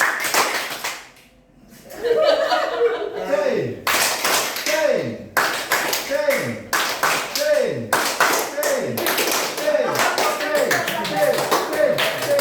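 A group at a public speaking session in a mosque claps in a rhythmic, repeated pattern, with sharp bursts of claps falling at regular intervals after a short quiet pause near the start, while voices and some laughter mix in.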